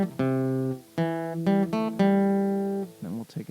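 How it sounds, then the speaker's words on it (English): Harmonica playing a short boogie-style intro phrase, a few separate held notes with breathy attacks and a brief wavering tail, close and alone without talk. "what we're going to play on the harmonica in this one. It sounds like this."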